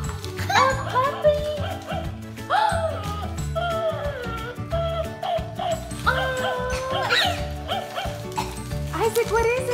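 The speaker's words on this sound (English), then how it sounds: "A puppy! And a puppy! A puppy!" A puppy yipping and whimpering among excited voices at a family Christmas gift opening, high short cries repeating irregularly under and between overlapping talk.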